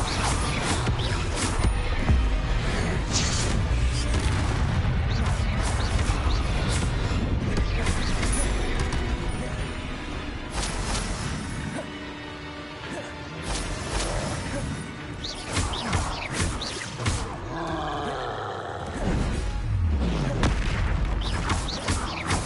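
Spell explosions and booming blasts from the Confringo blasting curse in Hogwarts Legacy, loud and dense throughout a chaotic fight with crashes and impacts, easing briefly midway before surging again; voices are faintly present in the mix.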